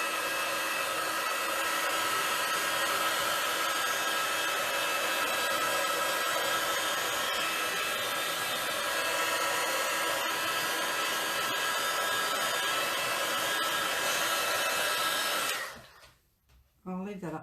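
A hair dryer blows steadily and loudly on oxide paint for about fifteen seconds, a constant broadband whoosh, then cuts off abruptly near the end.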